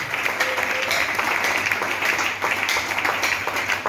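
Applause from a church congregation fills the room, a dense, steady clatter of many clapping hands with a faint voice or tone briefly audible beneath it.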